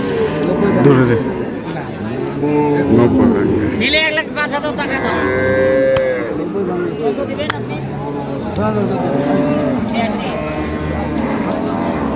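Cattle, including a Friesian bull calf, low and moo repeatedly at a busy village livestock market in Dinajpur, with people talking close by throughout.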